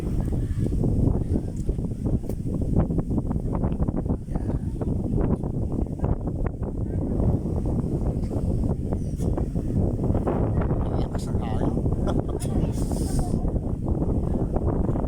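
Strong wind buffets the microphone in a constant loud rumble, with rustling mixed in.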